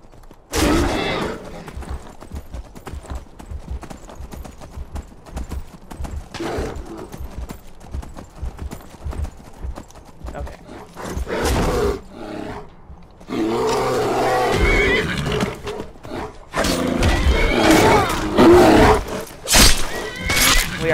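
A horse in the video game Skyrim gallops with rhythmic hoofbeats, joined by loud neighs and roaring bursts that grow more intense toward the end.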